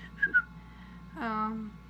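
Two short whistled chirps, then a soft wavering hum or voiced tone, close and quiet in an otherwise still room.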